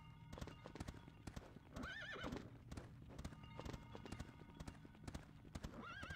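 Horses in the LEGO Indiana Jones video game trot with steady, rhythmic hoof clip-clops throughout, broken by two high neighing whinnies, one near the middle and another at the end, over a busy game soundscape.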